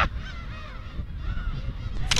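Seagull calling on an island in Japan or Taiwan, a string of harsh, honking cries close by over steady outdoor noise, with a sudden loud burst near the end.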